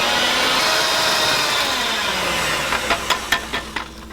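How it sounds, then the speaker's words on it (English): An electric hand mixer beats canned crushed pineapple with its juice in a steady, close whir. The motor winds down at the end, followed by a few light clicks and knocks. "we're going to take a 20-ounce can of crushed pineapple with the juice, and we're going to get our hand mixer and we're going to beat this together"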